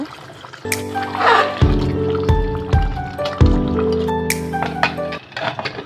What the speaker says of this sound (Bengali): মাংস কষানো হয়ে গেলে পরিমাণ মতো গরম পানি দিয়ে দিব ঝোলের জন্য